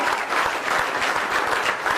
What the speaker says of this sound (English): Come on, clap like you mean it, black man and black woman